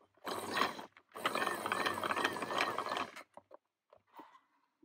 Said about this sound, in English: It's got motorized 4x4 action